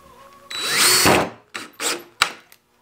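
A power drill boring pilot holes in wood for screws while building a chicken brooder: one long whining run of drilling, then three short close bursts, and no talk.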